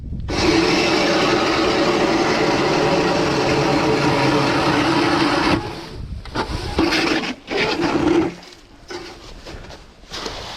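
Powered ice auger bores a hole through river ice, a loud steady motor drone for about five seconds that then turns rougher and uneven with surges and dips as the cut finishes.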